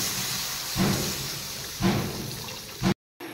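Water poured into a cooking pot of fried spices for a Bengali fish curry, a hissing, sizzling rush with a few louder splashing surges, ending abruptly.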